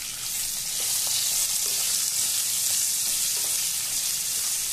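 Roughly chopped onions frying in ghee, a loud, even, close sizzle with a bright hissing texture that holds steady throughout, with no one talking.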